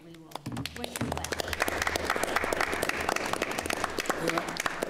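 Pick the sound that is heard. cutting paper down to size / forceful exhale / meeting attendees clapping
meeting attendees clapping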